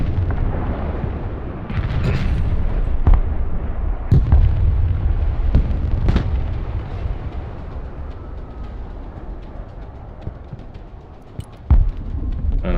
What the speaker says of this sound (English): And I've got a tasty airstrike.